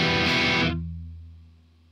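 A distorted electric guitar chord rings out loud and dense for under a second, then cuts off and leaves a low sustained tail fading over the next second, heard alone during a guitar recording session.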